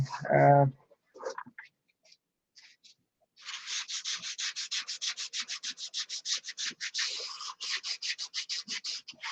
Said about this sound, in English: Anyway, we're sanding.